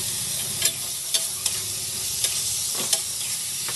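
Dal frying with Sunrise tadka masala over a low flame, a steady close sizzle broken by several sharp scraping strokes of a stirring spoon at irregular intervals, no talking.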